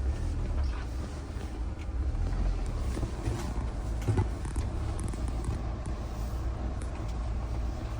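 A Mahindra Thar jeep driving off-road makes a steady, close, low engine rumble mixed with wind buffeting and occasional bumps and rattles throughout.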